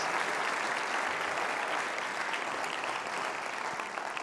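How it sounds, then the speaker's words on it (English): An audience at an incubator pitch night applauds steadily and loudly for the whole stretch, a dense wash of clapping with no break. "Big round of applause for all of them."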